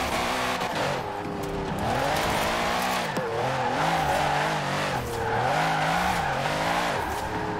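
A Mercedes SL65 AMG driven in Forza Horizon 4 gives a loud, close engine note that rises and falls with revving and shifts, accompanied by a bit of tire squeal.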